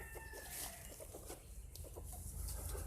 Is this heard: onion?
no